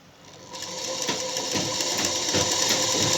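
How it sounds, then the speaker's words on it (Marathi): A sewing machine stitching a strip for a blouse: the motor whirs up from quiet and settles into a steady, close mechanical drone with a rhythmic needle clatter, with no voice over it. "आपली पट्टी शिवत आलेली आहे आपण टिप मारलेली आहे"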